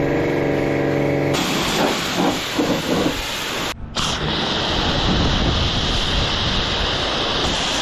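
A pressure lance sprays snow foam onto a truck, a loud continuous hiss that starts abruptly, briefly cuts out and then resumes steadily up close.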